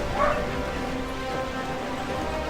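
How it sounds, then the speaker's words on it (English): A pet dog gives a short yip or whimpering bark near the start, then a steady room hum follows with no clear further calls. "Stupid dog."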